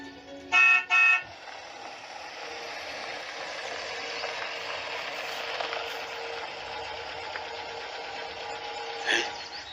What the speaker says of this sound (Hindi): तभी एक कार के हॉर्न ने उनको चौंका दिया।